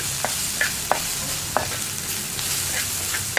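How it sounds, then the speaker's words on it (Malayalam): Onions stirred and frying in a clay pot for Kerala mackerel fish curry, a steady broadband sizzle with several light scraping stirs of a spoon at irregular intervals, close and moderately loud, with no talking. "ഉള്ളി ഒന്ന് ലൈറ്റായിട്ടൊന്ന് ബ്രൗൺ ഷെയ്ഡായി തുടങ്ങണം, അതുവരെ ഇളക്കി കൊടുക്കാം."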